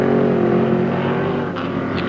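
Moffat's improved production touring race car at Warwick Farm in 1973 roars at full speed, a loud, steady, close engine drone with a slight pitch shift toward the end.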